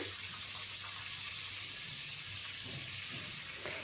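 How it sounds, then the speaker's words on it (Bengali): Cut cauliflower florets sizzle in hot frying oil in a pan, a dense, steady hiss that holds loud and unbroken throughout, heard close. "এই তেলের মধ্যে দিয়েছি কেটে রাখা ফুলকপি"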